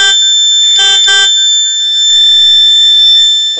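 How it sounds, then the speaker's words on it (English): A home security system's loud, shrill electronic fire alarm buzzes continuously with a couple of brief pulsing bursts near the start. No voices. "continuously the buzzer will be on and we will get the SMS like fire alert"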